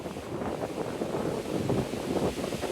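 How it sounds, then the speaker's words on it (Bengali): Strong wind blows by the sea at Lecco, Italy, a steady, rough roar that buffets the microphone without letup for a few seconds, with no one speaking. "অনেক বাতাস,"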